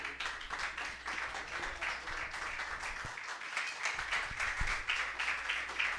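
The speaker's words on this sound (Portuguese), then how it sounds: "A igreja pode se assentar, louvando o Senhor com as palmas nesta noite." A church congregation claps steadily in praise during an evening service, a dense, continuous wash of many hands that carries on throughout without pause.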